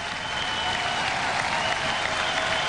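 Sustained applause from a large arena audience at the Eurovision Song Contest 50th anniversary show, a dense, even roar of clapping at moderate loudness with no pauses.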